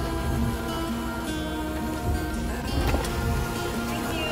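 Rain falls outside a coffee drive-through, a steady patter heard from inside a car, mixed with a low idling hum and faint background music.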